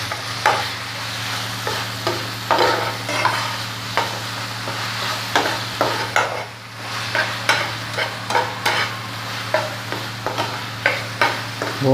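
Chicken liver masala with green chili being stirred in a hot pan: continuous sizzling and frying under repeated scraping strokes of a spoon, close and steady, with no talking.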